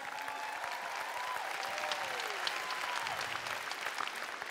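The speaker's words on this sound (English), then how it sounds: "Give yourselves a round of applause." Sustained applause from a large conference audience fills the hall at an even, fairly soft level, with a few faint whoops or whistles rising above the dense clapping.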